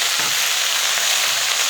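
Chopped onion and curry leaves frying in a pan for onion rice, a continuous loud sizzle that stays even throughout, with no voices.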